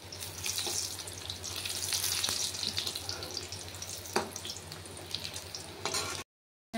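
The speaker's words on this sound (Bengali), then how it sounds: "জিরে তেজপাতা শুকনো লঙ্কা ফোড়নে দিয়ে দিয়েছি" Cumin, bay leaf and dried chili sizzle in hot frying oil, a steady dense crackle with brief louder pops, close up and uninterrupted until it cuts off abruptly near the end.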